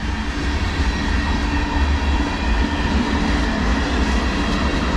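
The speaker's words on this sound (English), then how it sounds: "Now this is a true junk train. It's got everything on it." A CSX manifest freight train with tank cars, hoppers, boxcars and auto racks rolls steadily past close by, giving a loud, continuous rumble and rattle of wheels and cars.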